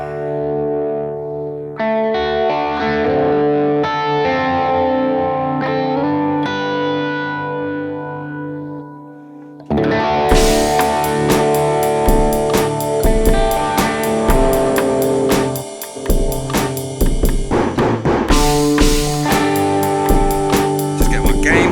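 Electric guitar played through a BOSS GT Plexi/Brit stack amp model with reverb, a cleaner sustained passage followed by louder, driven, distorted strumming with a steady rhythmic pulse, heard alone.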